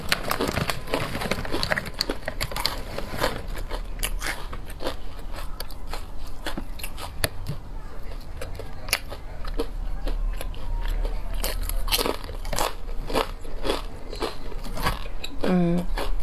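Someone bites and chews a crunchy, salty packaged snack up close, producing repeated sharp crunches and moist chewing, with a voice briefly heard at times.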